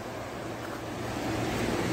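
Steady broadband rush of the Pemigewasset River (the Pemi) in northern New Hampshire on a foggy December day, continuous flowing water heard alone with no talk.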